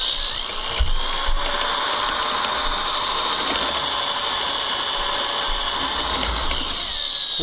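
A drill-driven stirrer whines steadily at high speed while mixing an Italian wine kit during degassing, holding one loud, continuous tone before spinning down at the end.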